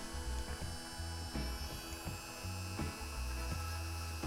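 Burrs are ground off the ends of Dinky toy axles on a Vickers Viscount model, giving steady whirring and rasping with repeated low rhythmic pulses, close and fairly constant throughout.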